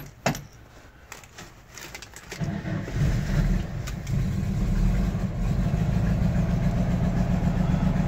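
A 1970 VW Type II bus engine settles into a steady idle in the cold after a few sharp clicks and knocks, a close, even mechanical chug continuing alone with no speech.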